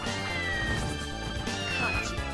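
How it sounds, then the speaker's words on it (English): A cat meows within the dense, continuous game soundtrack of Castlevania: Order of Ecclesia, the cries partly buried under layered music and effects throughout. "I hear a meow."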